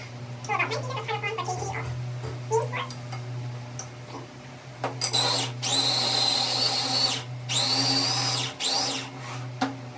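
An electric grinder grinds siomai filling in a kitchen, with two loud, whining bursts near the end. Soft handling noises come before the bursts, and a low steady hum runs underneath.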